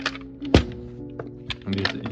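A hammer drives a screwdriver against a hardened engine gasket during VVT solenoid and gasket replacement on a 2014 Ford Focus SE, giving one loud sharp thunk followed by a few lighter taps and clinks close by.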